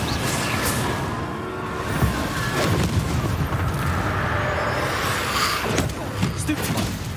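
Spell blasts from the Confringo fire spell in Hogwarts Legacy boom out in a string of heavy, explosive impacts over rumbling battle noise, with a voice speaking in the background.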